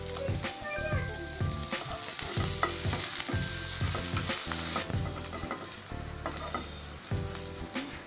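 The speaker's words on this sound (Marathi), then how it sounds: "कांदा थोडासा फ्राय करून झाला की लसूण आणि अद्रक घालणार आहे आणि ते भाजून घेते।" Onion, garlic, ginger and chili fry in a pan for palak paneer, giving a loud steady sizzle up close, broken by repeated scraping and knocking strokes of a spoon stirring.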